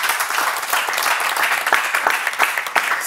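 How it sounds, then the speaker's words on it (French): Loud, sustained applause from an audience at a school festival, dense steady clapping with no pause for its full length. "Ils s'applaudissent encore très très très fort."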